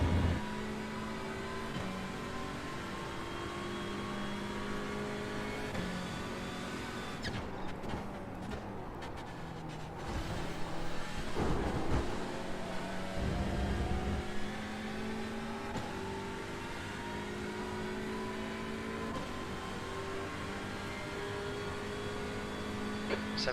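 Hyundai Elantra touring car in a racing video game at Donington National circuit, its engine droning steadily at high revs with brief dips and surges as gears change, continuous and fairly quiet throughout.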